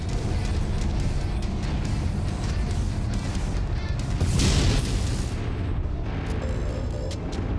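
A mech blows up in the MechWarrior video game: a loud, sustained booming explosion roar that swells to a crackling burst midway, then rumbles on under continuous battle noise.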